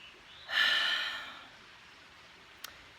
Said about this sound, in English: I was breathing like this, like I'm breathing now